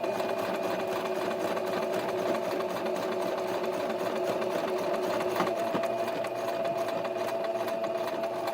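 A sewing machine runs steadily as it stitches a cuffed sleeve seam, with an even, continuous mechanical whir that stays close and constant throughout.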